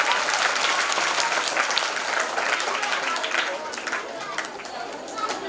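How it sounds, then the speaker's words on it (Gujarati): An audience at a school prize ceremony bursts into loud, sustained applause, dense clapping filling the room steadily for several seconds, with crowd chatter mixed in. "તાળીઓ પાડો જોરદાર."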